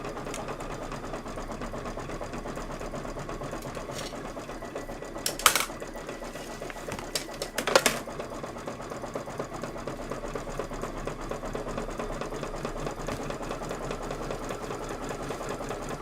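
An embroidery sewing machine stitches out a design in a 5x7 hoop with a steady, rapid mechanical chatter throughout, marked by a couple of brief louder clicks.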